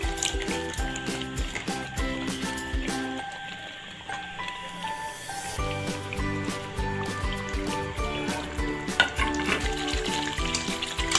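Chicken fries in masala in a pan for a changezi chicken recipe, a continuous sizzle broken by clinks and scrapes of stirring, close and fairly loud, with no talking.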